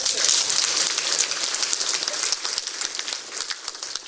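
A crowd applauds a provincial governor at a public gathering, a bright, dense wash of clapping that holds steady and eases slightly near the end, with no voices over it.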